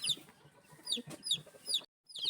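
Young chicks separated from their caged mother hen cheep in shrill repeated peeps, several close calls overlapping with soft lower clucking beneath, ending after a brief silence.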